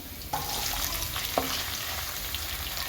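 Chopped small onions (shallots) for chicken thoran fry in a pan, producing a steady moderate sizzle. Two brief knocks from a spoon or spatula stand out against it, with no talking.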